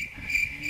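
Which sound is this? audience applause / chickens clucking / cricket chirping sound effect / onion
cricket chirping sound effect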